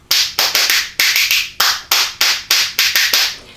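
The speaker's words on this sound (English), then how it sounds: "Now, these spoons sound like this." A pair of spoons clacks out a quick jug band rhythm, loud close clicks in steady patterns of fast doubles and triples, played alone without talk.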